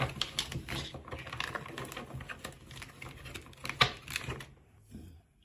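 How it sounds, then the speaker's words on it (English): Tarot cards shuffled by hand during a reading, a dense, rapid patter of riffling and clicking cards, steady and close for several seconds before fading out at the end. "Let me shuffle."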